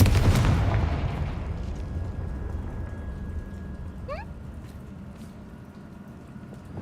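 Explosive spell blasts from Confringo and Bombarda in Hogwarts Legacy, a loud booming burst at the start that decays into a rumbling, crackling tail with a brief magical chime partway through.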